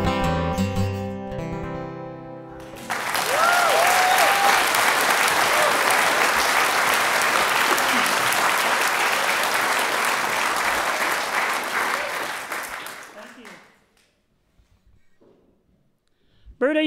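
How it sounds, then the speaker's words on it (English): A live audience bursts into loud, sustained applause after a folk song, the last instrumental note fading into a dense wall of clapping with a few whoops, which tapers off before a voice begins speaking. "are they applauding loud enough?"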